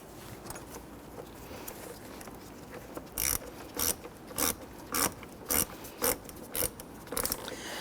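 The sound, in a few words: ratchet tightening battery terminal nut on Honda Ridgeline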